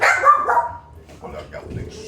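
A newborn puppy lets out a small yipping growl and whimper at close range, over a soft low rumble, while a person speaks nearby.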